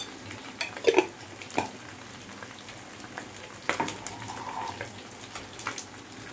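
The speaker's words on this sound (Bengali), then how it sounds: "আমার জিরাটা ফুটে গেছে এখন আমি আবার একটু নেড়ে চেড়ে নেব" Cumin seeds sputter in oil around a fried katla fish head in a pan, heard as a quiet sizzle broken by a few sharp crackles and the scrape of stirring, with no voices.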